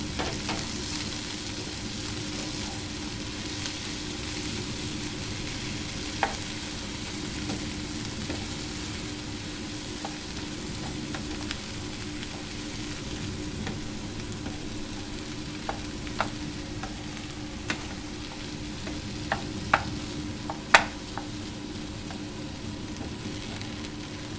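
Coconut mint chutney ingredients are tossed in a pan with the flame off, giving a soft, steady faint sizzle and stirring rustle with scattered light clicks and taps of a utensil against the pan.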